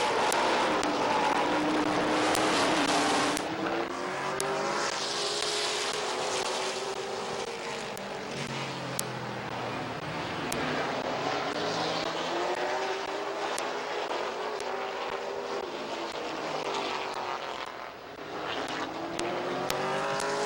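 Race cars in a heat race at Midvale Speedway roaring around the track, engines rising and falling as they pass, a continuous loud drone with shifting pitch and no talk.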